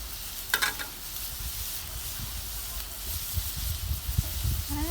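Shrimp sizzle and crackle steadily in a hot pan as fajitas cook, a continuous close frying hiss with occasional stirring clatters and a brief bump as the pan is tossed.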